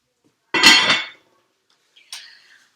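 A metal lid is set onto a risotto pot with a bright clanking rattle, followed after a pause by a lighter clink as it settles.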